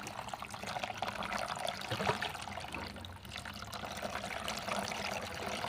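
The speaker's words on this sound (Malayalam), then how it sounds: "അപ്പോൾ നമുക്ക് കുറച്ച് വെള്ളം ഇങ്ങനെ ഇതിലേക്ക് ഒഴിക്കാം" Water poured onto coir pith in a container, a steady close splashing and trickling stream that runs continuously without pause and with no voices.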